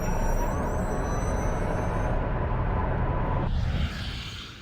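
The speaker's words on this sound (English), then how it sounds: "you can hear the cooling fans running in the background" Cooling fans on a Tesla's drive units run steadily in drag strip mode with a broad, even whooshing whir. It holds constant for about four seconds, then drops away and softens near the end.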